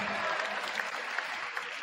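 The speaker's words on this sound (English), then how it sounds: "let's hear a nice round of applause for that purple team" Brief crowd applause in a gym at a youth boys basketball game, steady and moderately loud for just under two seconds with a few sharper claps standing out.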